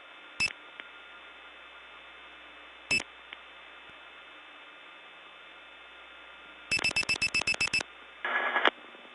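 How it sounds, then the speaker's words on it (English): Telephone intercept tones from a vacant-number line on a 1979 Gainesville, Georgia step exchange: isolated short beeps, then a rapid burst of about ten pulsed tones and a buzzing tone over a faint line hiss. "I dialed 2, followed by 119, and got the Gainesville vacant level recording."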